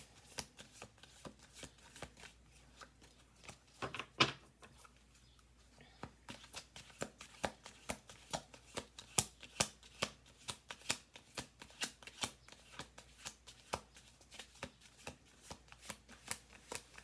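Deck of cards being shuffled close up, crisp riffle bursts followed by a long run of quick, rhythmic taps and flicks, with a quiet pause near the start.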